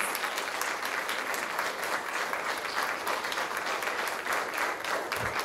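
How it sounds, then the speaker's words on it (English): Steady, even applause from a concert audience after a quartet's performance, a dense wash of many hands clapping at moderate loudness without pause. "Round of applause, please."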